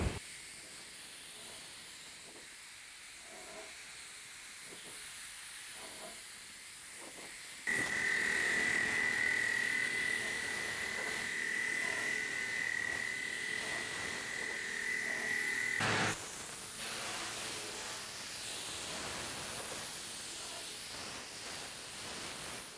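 A spray gun lays down one even coat of paint with a 4 to 5 inch fan and 50% overlap, a steady close hiss that swells loud during the pass and stays constant for several seconds, with quieter air noise before and after.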